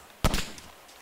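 Single gunshot in the survival video game DayZ, a sharp crack followed by a brief echoing tail, moderately loud and heard on its own.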